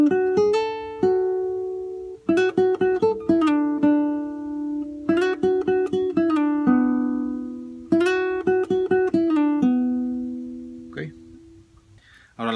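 Guitar plays a phrase of a Peruvian waltz in four similar groups of plucked notes, each opening with a firm attack and settling on a ringing note; close and clear, tapering off with a few soft noises at the end.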